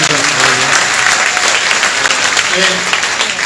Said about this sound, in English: Give her applause in the back.